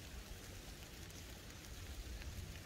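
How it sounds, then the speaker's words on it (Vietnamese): Rain falls steadily on a riverside fishing spot in the Vietnamese countryside, a faint, even, continuous patter with a low rumbling wash beneath. "Qua nay câu ông trời ông cứ mưa hoài."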